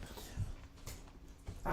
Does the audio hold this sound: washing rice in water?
no